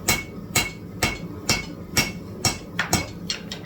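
A hammer strikes a 20-layer Damascus steel billet on an anvil while it is drawn out in a home forge, with about ten crisp, ringing metallic blows at a steady pace, close and loud, quickening toward the end.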